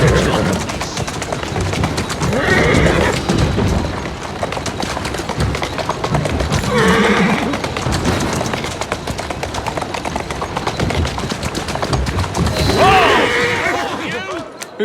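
Horse galloping in the video game Assassin's Creed Syndicate, rapid hoof clatter running throughout with bursts of horse neighs and game voices talking over it, loud and close.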